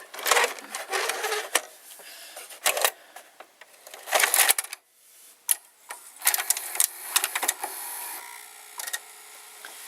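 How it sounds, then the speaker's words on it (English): RCA VR535 VCR loading mechanism and loading motor running in quick mechanical bursts of whirring, clicking and clattering, separated by short pauses, close and fairly loud. "It's loading well, and so the mechanism is similar because the loading motor is at the same place as the Hitachi"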